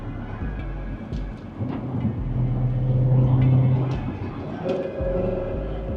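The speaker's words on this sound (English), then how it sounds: "we're gonna downshift and see what it does" Car with a manual gearbox and rev matching switched on, engine blipping and rising in pitch during a downshift, heard from inside the cabin over steady road rumble, without talk.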